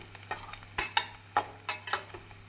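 Garlic sautéing in a pan for a pickle, heard as a series of sharp, quiet stirring scrapes and clinks in an irregular rhythm over a faint sizzle.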